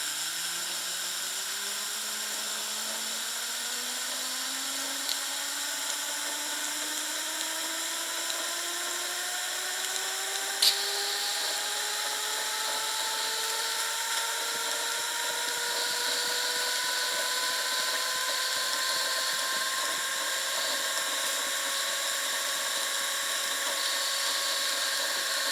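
A Wilesco T115 model steam turbine spins up with a thin, steady whine that climbs gradually in pitch as it gains speed, over a constant hissing rush of steam, close and continuous with no talking.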